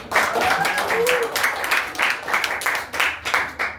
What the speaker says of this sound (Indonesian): Berikan tepuk tangan dulu Nijar.